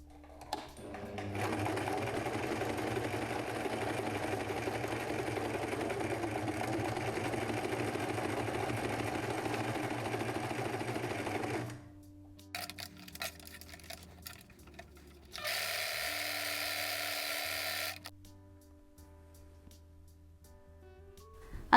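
Sewing machine stitching dress fabric into a skirt, a close, even mechanical whir for about ten seconds, then a pause with light handling noises before a second shorter burst of stitching.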